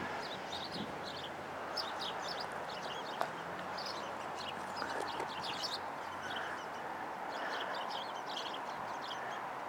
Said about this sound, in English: the birds are chirping like crazy